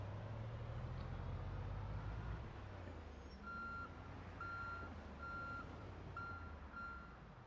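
Repeated reversing beeps from a truck backing up with trailers in the Project Zomboid video game, a steady series of evenly spaced tones over a continuous engine rumble, with a heavier low growl in the first seconds.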